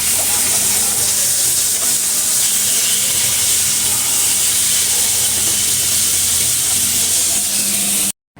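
Fish pieces fry in hot oil in a pan, giving a loud, steady hiss that holds unbroken for about eight seconds before cutting off abruptly.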